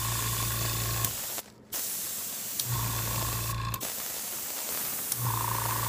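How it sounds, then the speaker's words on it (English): A steady air compressor hum runs throughout, broken by two short bursts of spray hissing as color is sprayed onto deerskin leather. "Sorry for the sound of the compressor."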